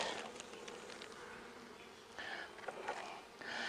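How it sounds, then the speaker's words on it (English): Honey bees in a nuc hive during a first inspection, colony spread over about four frames, make a steady close droning buzz with a few louder swells of wingbeats. "bees are occupying about 4 frames"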